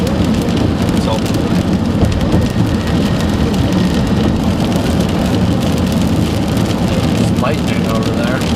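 Heavy rain hisses steadily in a storm-chasing video game, with low rumbling thunder beneath a dense, even wash of downpour throughout.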